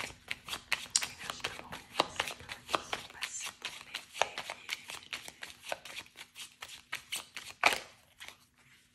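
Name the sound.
shuffling a deck of 32 cards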